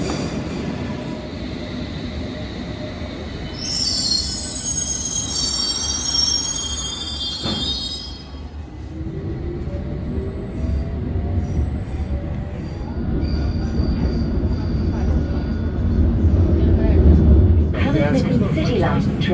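A London Underground Hammersmith and City line train bound for Barking rumbles steadily, with wheel squeal and rail clatter rising partway through and a voice, likely an onboard announcement, heard over the running noise.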